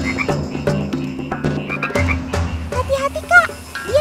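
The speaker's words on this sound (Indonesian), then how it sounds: "itu kan si buku asper atau lebih dikenal bangkong sungai." A river toad (Phrynoidis aspera) croaks close by in a series of loud, rapid, pulsing calls. Rough bursts repeat over a few seconds, and higher chirps join toward the end.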